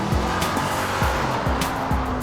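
A Ford Mustang muscle car under hard acceleration, a loud close engine roar rising in repeated gear-change sweeps, about five quick upshifts in two seconds with tyre noise underneath.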